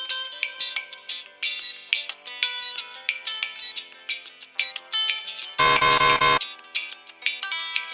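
A mobile phone ringtone plays alone as a bright, repeating electronic melody of short chiming notes, with one brief burst of harsher, fuller tone midway.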